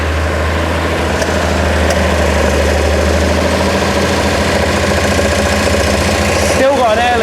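A freshly rebuilt Datsun L28 inline-six runs a little rich with a slight air leak, idling in a close, steady, rumbling drone with a faint knocking beat that continues unbroken throughout.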